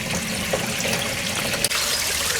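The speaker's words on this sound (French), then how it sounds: "la cascade est en route" A small waterfall in a garden fish pond runs after filter maintenance, splashing and trickling in a steady, close, continuous stream with a brief knock partway through.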